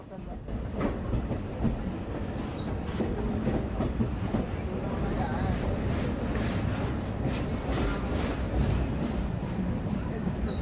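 A long goods train of many wagons loaded with petrol rolls past near Feroke railway station, a steady, close rumble with rhythmic wheel clatter and rattling throughout.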